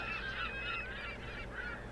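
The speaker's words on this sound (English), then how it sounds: "Those seagulls." Seagulls cry in the Le Havre: The Inland Port board game, a loud run of honking, squawking calls in the harbour soundscape with no talk over them.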